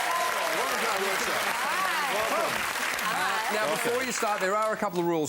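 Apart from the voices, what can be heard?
studio audience applause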